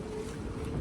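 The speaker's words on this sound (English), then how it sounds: "it's causing a lot of wind in this area" Strong gusting wind on a coast from the remnants of Hurricane Ivan, blowing steadily into the microphone as a dense, continuous rush with low buffeting rumble, heard alone for under a second.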